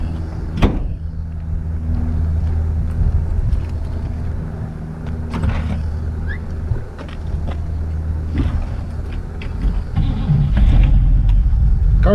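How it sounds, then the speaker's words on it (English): A 1959 Cadillac Series 62 two-door hardtop cranks and fires up, then settles into a steady idle with a slight exhaust leak near the manifold, with a deep low rumble that stays loud and close throughout. "Car starts right up."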